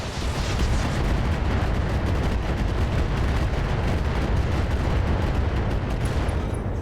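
A salvo of SRM missiles slams into a mech in the video game RogueTech, a dense, continuous barrage of loud booming blasts rumbling for several seconds with no voices.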